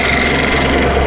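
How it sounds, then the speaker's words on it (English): Wet sanding of a wooden bowl spinning on a lathe, with walnut oil as the liquid medium, gives a steady, close abrasive rasping and rubbing hiss over a low motor hum, continuous and alone. "So I use walnut oil as the medium, the liquid medium for wet sanding"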